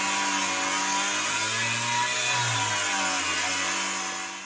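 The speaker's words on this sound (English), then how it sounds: "we're gonna just angle grind that off" An angle grinder cuts through a cast iron drain pipe, a loud steady high whine with a droning motor tone that dips and rises under load, then begins to fade at the end, with no talking.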